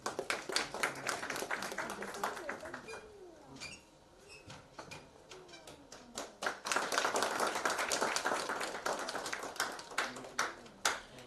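An audience at a school award ceremony for a space science olympiad claps in dense, sustained applause that dips briefly midway and then swells again, with pigeon-like cooing and a faint voice mixed in.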